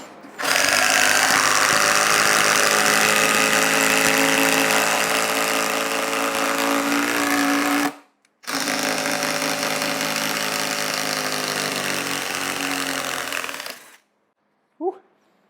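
A Ryobi 18V brushless compact impact driver hammers a 6-inch lag screw in with a loud, continuous rattling buzz for about eight seconds, pauses briefly, then drives again for several more seconds before stopping.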